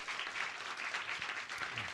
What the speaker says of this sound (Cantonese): 咁所以咧，我哋俾啲熱烈嘅掌聲，